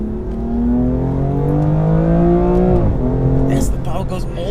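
A BMW M2 engine revs up steadily toward the red line with a rising, loud in-cabin growl, then drops as a gear changes and climbs again, with people talking over it.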